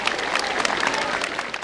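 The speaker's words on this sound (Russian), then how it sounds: "Бурные аплодисменты нашим выпускникам!" Loud, dense clapping from a large crowd for graduates at a school's last-bell celebration in Konakovo, Russia, continuous and enthusiastic, fading slightly at the very end.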